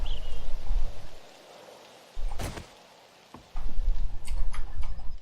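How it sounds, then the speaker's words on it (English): Steady rain patter with a low rumbling wash in the video game 7 Days to Die, cutting out briefly twice, with a few sharp crackling taps in between. "There's the fog. Of course it's raining."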